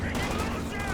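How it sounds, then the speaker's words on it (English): Tank gun firing in Company of Heroes 2 during a 2v2 match: a dense, continuous rumble of cannon and small-arms fire with no clear gaps, heard under a commentator's voice. "There goes the tank gun."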